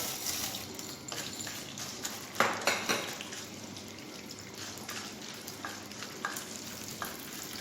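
Edible gum (gond) frying in ghee in a kadhai for methi laddu, a continuous crackling sizzle with scattered pops and a few louder bursts around the middle, heard close up and without speech.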